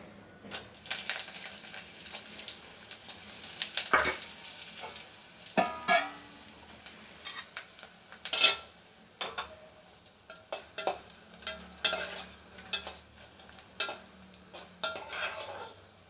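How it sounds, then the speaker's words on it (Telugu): Dried red chillies frying in a pan for a bhindi (okra) fry, with soft sizzling under scattered clinks and scrapes of a utensil against the pan, close and fairly quiet, no talking. "అండ్ నెక్స్ట్ వచ్చేసి ఎండుమిర్చి కూడా ఫ్రై చేసుకుందాం."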